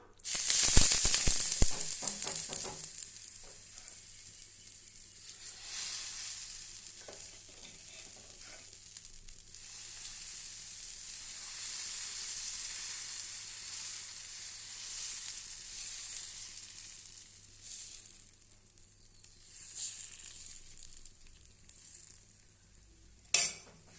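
Spicy kara dosa batter sizzles hard on a hot pan, a loud crackling burst at the start settling into a steady hiss, with scraping and faint clatters later and no talking.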